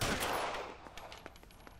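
Gunfire in the L.A. Noire video game: a loud burst of shots at the start fading into a string of sharp, separated reports spaced irregularly through the rest of the moment, with no talking.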